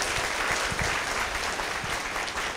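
Warm, steady applause from a lecture audience, a dense patter of many hands clapping at moderate distance with no voices over it.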